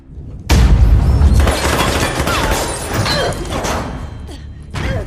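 M4 rifle fire erupts in a film action scene, a loud close burst of booming shots and clattering impacts that fades into scattered rumbles with another blast near the end.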